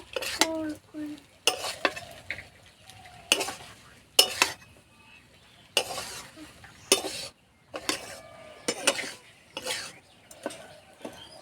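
Vegetable Maggi noodles stirred in a pan, a spoon scraping and clinking against the metal in repeated bursts with soft sizzling between strokes, close and without talk.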